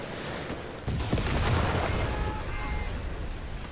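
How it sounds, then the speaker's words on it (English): Strafing run in a World War II strategy game, as a Chaffee tank dives: a sudden heavy burst of rumbling explosions and gunfire that sustains as a dense, loud barrage. "drops the strafing run"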